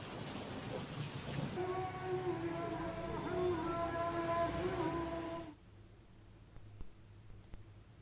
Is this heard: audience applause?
no